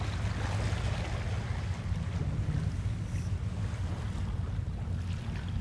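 Water washing onto the shore at Ujina beach, a steady broadband rush of surf with wind noise on the microphone, continuous and fairly loud with no talk.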